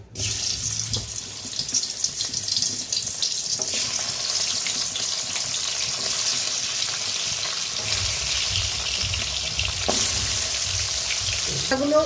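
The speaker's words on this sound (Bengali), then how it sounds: "তেলটা গরম হয়ে গেছে, তো মাছের মাথাগুলো ছেড়ে দিই এক এক করে।" Katla fish heads fry in hot oil in a wok, producing a loud, constant sizzling roar with scattered crackles and spatters throughout.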